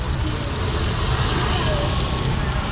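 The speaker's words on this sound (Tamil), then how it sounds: "யாழ்ப்பாணத்தில் இன்று சரியான மழை." Heavy evening rain pours over a town street in Jaffna, a dense, loud, continuous hiss that fills the whole moment without letup.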